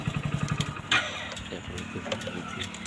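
A Hero Splendor+ motorcycle idles at a petrol pump, its low rhythmic engine putter steady and close, with background noise and a brief clatter.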